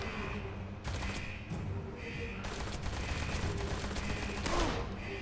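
Gunfire in the detective video game Blues & Bullets, a few loud sharp shots breaking through a dense, noisy game soundtrack.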